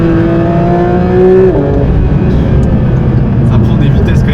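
A Porsche 911 992 GT3 RS engine revs hard and climbs through the gears, heard loud and close from inside the car. The rising tone drops sharply at one upshift, then pulls on steadily.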